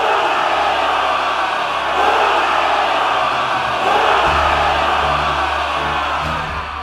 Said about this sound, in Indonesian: Sorakan kemenangan menggema dari arah atas dan dari para pejuang yang masih bertahan.